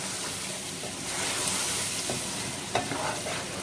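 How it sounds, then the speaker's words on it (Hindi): Boiled white chickpeas, about 400 grams, sizzle and fry in cooking oil in a pot while being stirred, a steady close crackle with a few sharper scrapes toward the end. "सफ़ेद चने तकरीबन 400 ग्राम है, ये उबले हुए हैं, ये डाले मैंने।"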